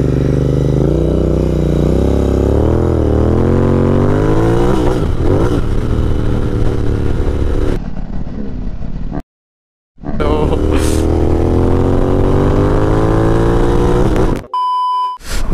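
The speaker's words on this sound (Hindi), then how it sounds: "तो दोनों तरफ मिट्टी मिट्टी है और हम बीच में रोड पे बाइक चला रहे हैं।" A Benelli TRK 502X motorcycle riding on a road between dirt shoulders, its engine loud and close, revving and rising through the gears, with a brief dropout and a short electronic beep near the end.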